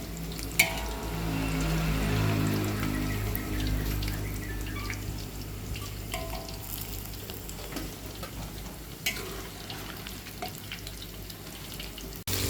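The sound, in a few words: draining fried potatoes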